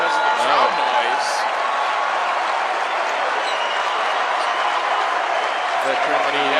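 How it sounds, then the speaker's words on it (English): Arena crowd at a FIBA AmeriCup 2017 basketball game between Mexico and Colombia applauds steadily, a dense wash of clapping and crowd noise filling the whole stretch, with a commentator's voice briefly audible over it. "Yeah, applauding."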